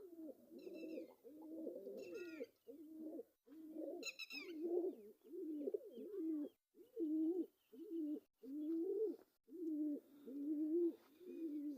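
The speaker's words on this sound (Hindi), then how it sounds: "देखें न्यू न्यू नए नए किस्म के कबूतर हैं।" Pigeons of several breeds coo in a steady series of low, throaty rolling calls, close by, with short pauses between them and a few faint higher chirps early on.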